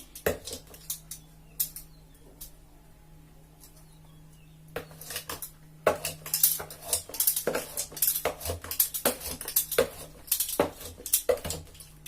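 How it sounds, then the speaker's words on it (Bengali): Chocolate cake batter with oil is stirred in a bowl, giving close, quiet utensil scrapes and clinks against the bowl that grow into a busy, irregular clatter after a quieter start. "তেলটা দিয়েও খুব ভালোভাবে এটাকে নেড়ে নিতে হবে।"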